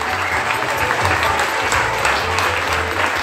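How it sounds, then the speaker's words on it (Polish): Audience applause after a charity auction sale at a WOŚP Grand Finale event in Gostyń, a loud, dense, continuous clapping from a large crowd, close and sustained. "Wielkie brawa, dziękujemy."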